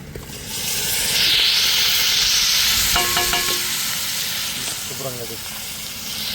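Chicken pieces dropped into a pan of frying onions with chili powder, giving a steady close sizzle with a few clinks and stirring scrapes part way through.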